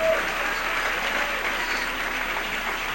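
A church congregation applauding during a Spanish-language sermon: dense, steady clapping that fills the room at a loud, even level for the whole span.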